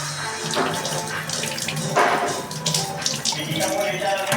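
Water runs steadily from a kitchen tap while dishes are rinsed in a sink, a continuous close splashing hiss with a few louder surges and a voice talking briefly over it.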